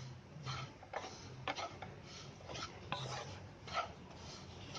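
Wheat flour roasting in ghee for churma modak is stirred in a pan, giving irregular scraping and tapping strokes over a soft, steady background, fairly quiet and with no talking.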